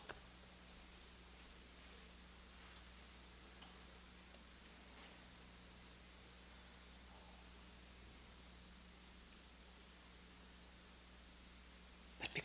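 Crickets humming steadily outdoors, a continuous high, even drone that stays constant throughout with faint background noise and no talk.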